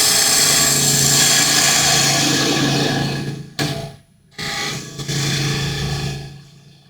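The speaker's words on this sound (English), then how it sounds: "I've switched it to spindle gouge here now, just because I can just refine the shape" A wood lathe spins a wooden apple blank while a spindle gouge refines the shape, producing a steady humming whir with scraping cuts, briefly interrupted by two short pauses before resuming.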